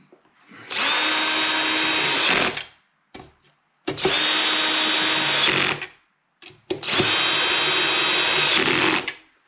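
A power tool drives bolts to fix a platform onto a weather-resistant portable diesel heater box, running in three loud, steady whirring bursts of about two seconds each, separated by short pauses.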